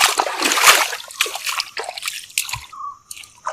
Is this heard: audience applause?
no